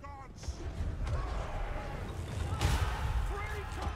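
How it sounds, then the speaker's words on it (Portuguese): Heavy thuds and crashing impacts of catapult artillery fire in the Total War: Warhammer 3 video game during a city siege, with booming hits under game ambience and someone talking over it. "O tiro dessa catapulta machuca demais, viu?"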